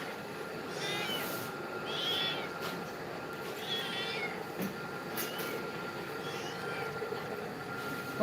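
Several drawn-out cat meows, fairly close, spaced a couple of seconds apart over a steady background hum.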